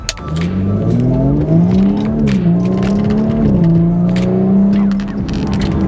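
An Audi S4 accelerates hard away from a traffic light. The engine note is loud and close as it climbs through the gears, rising in pitch with brief dips at each shift.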